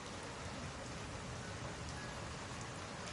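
Steady rain falls continuously, a dense even hiss of drops on surfaces, close and alone with no voices.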